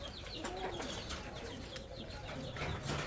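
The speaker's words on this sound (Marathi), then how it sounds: "आणि हे बघा आमचे कोंबडे" Roosters cluck softly at a farmstead against a steady outdoor background hum, with other bird calls mixed in.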